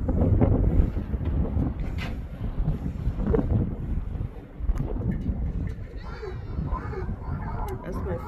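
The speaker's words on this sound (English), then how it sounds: "It's windy today." Gusty wind buffets the microphone outdoors on a rural South African farm, rumbling and roaring in uneven surges, with a voice speaking intermittently underneath.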